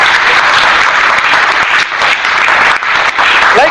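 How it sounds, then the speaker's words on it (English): Sustained applause from a teachers' workshop audience at an academy in Meerut, India, a dense, steady clatter of many hands with brief dips in intensity, loud and close, with no talking over it. "Clap, Vellamma, please."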